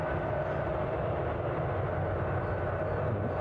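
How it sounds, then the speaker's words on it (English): A Jet2 Boeing 737 airliner departs Newcastle International Airport, its steady broadband engine roar heard at a distance under murky skies, constant and unbroken, with no voices. "So next out will be Jet2 737."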